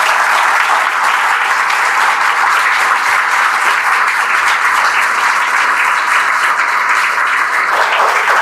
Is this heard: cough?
no